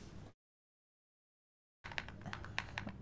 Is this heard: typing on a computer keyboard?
yes